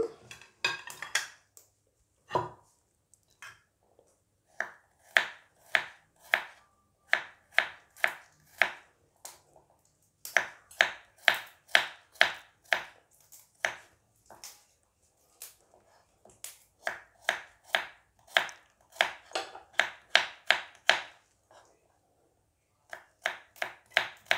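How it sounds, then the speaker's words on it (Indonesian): Garlic and shallots are chopped with a knife on a board, a steady series of crisp, close knife strikes coming in quick bursts separated by brief pauses, with no talk. "Untuk bawang putih bawang merahnya kita rajang."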